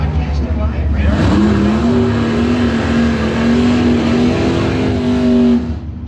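A Chevy S10 and a 1981 Camaro race at a drag strip, engines roaring loudly and rising in pitch as they accelerate past, with a rumbling din underneath and an announcer's voice over it.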